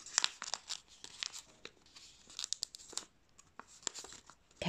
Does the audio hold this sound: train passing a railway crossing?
no